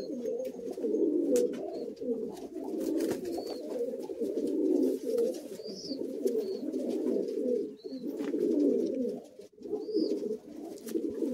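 Madrasi high-flying pigeons coo in a loft in a continuous low, rolling murmur of many birds together, steady and fairly close, with faint higher chirps now and then and no talk.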